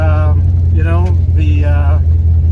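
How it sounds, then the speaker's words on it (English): A drag-racing car is driven on the road for its first miles since October, its engine giving a steady, loud low drone inside the cabin while a person talks over it. "we're driving the car, because it hasn't been driven since October, to get a few miles on it"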